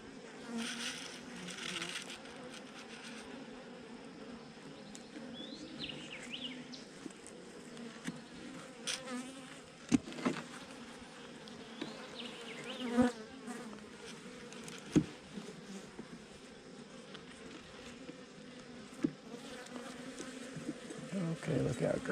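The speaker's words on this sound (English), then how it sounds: "This has been a very gentle bunch of bees" Honeybees buzz steadily during a one-week hive check, a dense, continuous drone close by with occasional louder swells and small clicks from handling the frames, while a person talks quietly at times.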